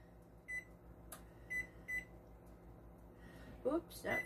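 Oven timer buttons beeping as a cooking time is keyed in: a handful of short, clear electronic beeps spaced irregularly, with two louder ones close together at the end, over quiet room noise.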